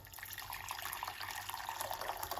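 Hot water pours in a steady, trickling stream into a pot, with light splashing and a slight rising fill quality, fairly close and unaccompanied by speech.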